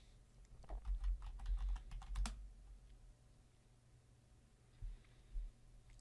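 A password is typed on a computer keyboard as a quick burst of about a dozen close, crisp key clicks, ending in one firmer press, then near silence with a couple of faint thumps.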